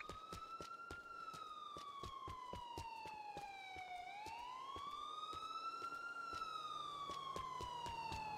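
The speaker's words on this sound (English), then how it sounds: "I heard the police car." A police siren in the video game Grand Theft Auto IV wails steadily, its pitch sliding up and down in slow sweeps, loud and continuous throughout with rapid clicks behind it.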